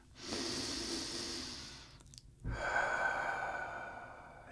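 Two deep breaths, a long airy inhale followed after a short pause by a fuller exhale, close and clear with no talking.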